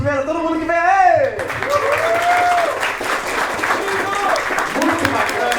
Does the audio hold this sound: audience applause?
yes